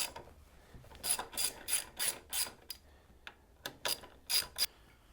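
A socket ratchet loosens the handlebar clamp bolts on a Harley Sportster or Dyna motorcycle, giving close, crisp bursts of rapid clicking separated by short pauses, with no voices.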